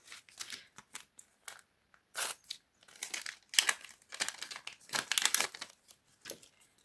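Crinkling plastic packet, a small sticker packet, being torn open, a close run of sharp crackles and rustles in irregular bursts, with no talking.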